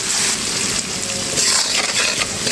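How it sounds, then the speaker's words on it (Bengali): Chopped onion sizzling loudly in a pan while being stirred, a dense continuous fry with scraping stir sounds, close up, with no one talking. "পেঁয়াজ কুচি করা দিয়ে দিয়েছি এখন একটু নেড়ে করে ভেজে নেব"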